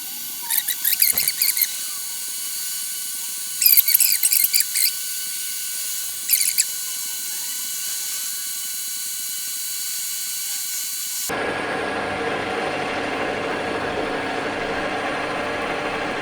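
A gear-cutting machine runs with its cutting tool feeding automatically, a steady mechanical whine and hum with bursts of high metallic chatter, then a louder broadband grinding drone.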